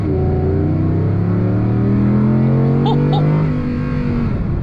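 A 2024 Audi R8 supercar engine sings under load while driving, a loud, close tonal drone with clear gliding harmonics as revs shift, plus a couple of faint clicks midway.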